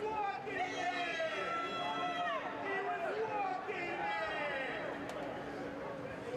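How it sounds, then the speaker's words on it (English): Soccer supporters in Columbus sing and chant in the stands at a U.S. Open Cup match, a dense, continuous crowd chorus of voices rising and falling together, fairly distant and steady throughout. "You'll hear the support from the crowd"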